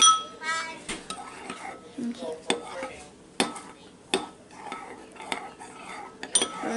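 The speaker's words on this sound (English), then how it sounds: "Alright, now we're gonna mix." A spoon scrapes and clinks against a bowl while homemade slime made with laundry detergent is stirred, with repeated sharp knocks and a wet churning between them, and children's voices chatter faintly in the background.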